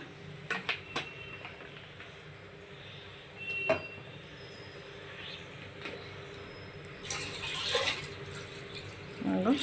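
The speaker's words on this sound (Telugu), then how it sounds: "వాటర్ పోసేస్తున్నా అండి. నేను ఎన్ని బియ్యం తీసుకున్నానో అన్ని వాటర్ పోసేస్తున్నా." Water poured onto measured rice in a cooking pot for bagara rice, a low, fairly faint splashing and trickling that swells in short bursts late in the clip.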